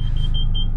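A car rolls backward at low speed with a deep, steady rumble, while a reversing sensor beeps in short repeated pulses above it.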